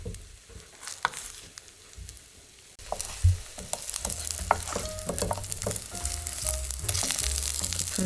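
King oyster mushroom jeon fries in a pan with a drop of oil and red chili, giving a soft sizzle and scattered spattering that grows busier and louder partway through, with occasional clinks and scrapes.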